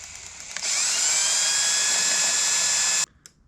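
A handheld power drill spins up and runs steadily at high speed, winding old fishing line off a reel onto a spool, a loud sustained whine that cuts off abruptly after a few seconds.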